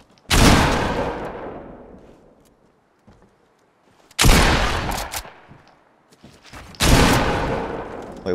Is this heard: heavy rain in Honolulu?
no